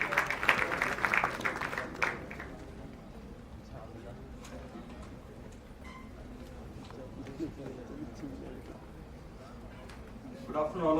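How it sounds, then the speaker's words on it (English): An audience at a pharmaceutical research conference claps in a burst of applause at the start that fades within about two seconds, after which a speaker talks over faint hall noise. "Give a huge round of applause."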